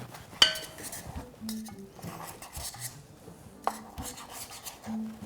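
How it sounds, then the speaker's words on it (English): Knife slicing thin grilled carne asada into bite-sized pieces on a cutting board, producing a few sharp clicks of the blade against the board amid soft, quiet scraping. "I'm just going to slice it like that, and then I'm going to cut it crossways again just so that it's more bite-sized pieces"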